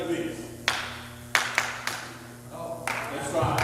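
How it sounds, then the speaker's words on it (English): A few separate, sharp claps spaced irregularly at a graduation ceremony rehearsal, sitting over low room hum and a quiet background voice, as if a single person is demonstrating a measured clapping style. "The academic clapping is different."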